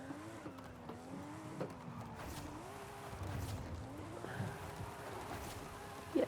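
A car drifting in the video game Forza Horizon 5, a faint engine note rising and falling with throttle and a soft tire squeal underneath, quiet throughout.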